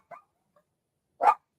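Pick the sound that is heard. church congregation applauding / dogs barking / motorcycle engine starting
dogs barking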